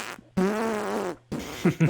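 A loud, drawn-out fart of about a second with a tonal, reedy buzz, followed by a couple of shorter bursts, heard up close with no talking.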